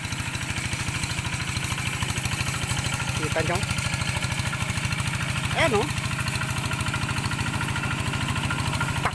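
A motor engine running on a farm with a steady rapid chugging idle throughout, close and loud, while someone talks briefly over it.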